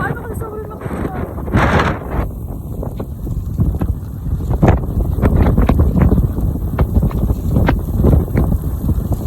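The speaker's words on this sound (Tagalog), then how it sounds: "Hindi ako makaano kasi sobrang lakas ng hangin." Strong storm wind buffets the microphone beside a river during a typhoon, roaring in loud continuous gusts with someone speaking over it.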